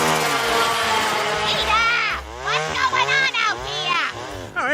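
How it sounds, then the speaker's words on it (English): A chainsaw cutting into a backyard tree to hollow it out, a loud revving whine that rises and falls in pitch with bursts of acceleration, with talk over it. "Peter decides to use his chainsaw to hollow out a tree in their yard, causing a massive racket"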